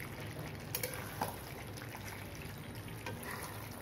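Mutton is browned in a pan over a low flame while being stirred. A soft, even frying hiss continues throughout, with a few light scraping clicks from the stirring, quiet and unaccompanied by speech.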